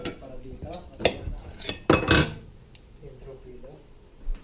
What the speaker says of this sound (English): I will cut a little bit of cornbread.